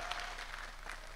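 A church congregation gives brief, weak applause: a short, faint patter of scattered clapping heard from a distance.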